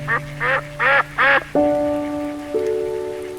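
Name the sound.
duck quacking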